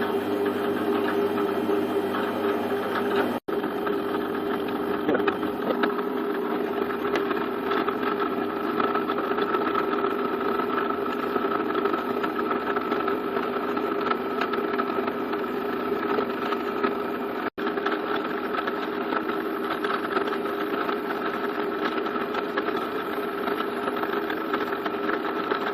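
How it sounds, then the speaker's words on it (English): A small CNC machine runs steadily, giving a continuous mechanical hum with a whine and motor drone at an even level. It is close and loud, with two brief dropouts and no speech. "It's not the fastest CNC machine in the world, but it will hit about 20 to 30 microns at a push."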